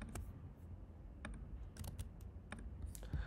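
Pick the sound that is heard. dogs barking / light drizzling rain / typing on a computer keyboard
typing on a computer keyboard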